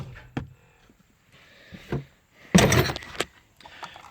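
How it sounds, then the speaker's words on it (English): A hammer strikes the steering wheel nut of a 2006 Malibu during clockspring replacement, a few sharp metallic knocks with one heavier, louder clunk near the middle. "I give one strike, and I'll pull with my knees and I'll hit the nut."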